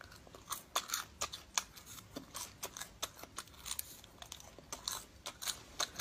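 Crunchy fried cicada nymphs being chewed up close, a series of sharp, irregular crunches and bites over several seconds with no talking.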